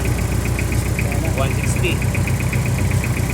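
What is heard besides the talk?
Toyota Revo AC compressor spinning with engine running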